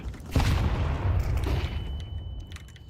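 Flashbang grenade going off in Counter-Strike: one sharp, loud burst followed by a lingering rumble and a high steady ringing tone, with faint clicks of game action behind it.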